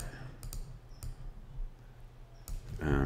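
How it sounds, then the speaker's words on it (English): Computer mouse clicks while working in Photoshop on a desktop setup, a few sharp isolated clicks spread across a few seconds, close and fairly crisp against a low background hum. "clicking on this and clicking on something and moving it up"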